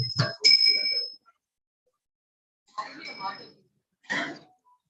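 A mobile phone left behind rings in a quiet room during a devotional talk, a bright electronic ring sounding in several short bursts with silent gaps between them.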